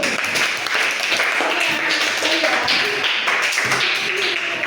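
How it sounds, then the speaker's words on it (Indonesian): Dense, steady clapping from a class of students during a physical education lesson, filling the room evenly for the whole stretch with no pauses. "Tepuk tangan buat kita semua dulu."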